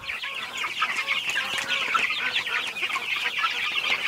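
Young homestead chickens cluck steadily and softly at close range, a busy continuous chatter of many birds with no talking over it.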